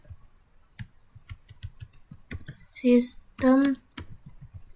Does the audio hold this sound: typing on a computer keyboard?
yes